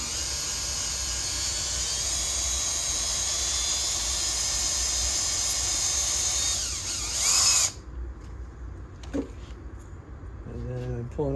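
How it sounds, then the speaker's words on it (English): A drill with a cobalt bit grinds into a stripped, rusted steel bolt on a Husqvarna muffler, running loud and steady for about seven seconds before cutting off, followed by a few faint clicks and scrapes. "the bits themselves aren't very good at drilling the steel, so I've grabbed some cobalt that I've had"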